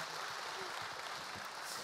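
Audience applause at a citizens' talk concert on considerate traffic culture, a dense, steady clapping from a crowd that is faint and distant and lasts the whole moment.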